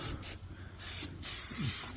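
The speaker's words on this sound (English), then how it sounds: "Just spray this around the welds," An aerosol can of rust preventive hisses in short bursts as it is sprayed around the welds of shop equipment, three or four close, loud spurts separated by brief pauses.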